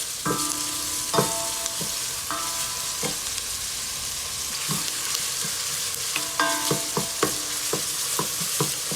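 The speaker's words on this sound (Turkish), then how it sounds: "Kıymam tamamen dağılana kadar güzelce kavuruyorum." Minced meat sizzling loudly in a hot pan while it is sautéed for a green bean dish, with repeated rhythmic spoon scrapes and clanks against the pan over a constant frying hiss and no speech.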